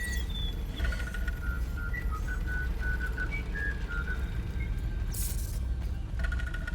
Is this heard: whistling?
yes